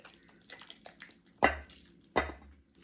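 Two short, wet splats land a moment apart as sauce is poured over a golden broccoli casserole, standing out clearly over faint, quiet kitchen sounds.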